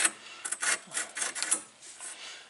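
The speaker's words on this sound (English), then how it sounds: "you can use a file to do this. I'm just taking off the burr off the edge." A hand file takes the burr off the edge of a band blade for a Wood-Mizer LT15 sawmill, making a quick run of short, close rasping strokes at fairly low volume.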